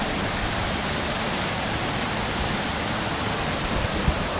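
A waterfall at High Dam Tarn pours into a stream, a steady broadband rush of flowing water close by that holds constant throughout with no voices.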